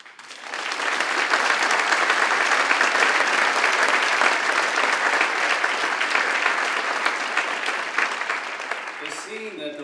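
A large audience applauds steadily at an anniversary gathering in honor of Denny Dalen, the dense clapping swelling quickly, holding strong for several seconds, then easing slightly near the end.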